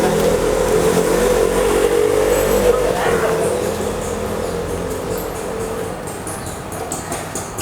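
A motorcycle engine fitted with a GPS tracker immobilizer runs steadily at idle, a loud continuous hum that eases slightly in level partway through, with no talk heard.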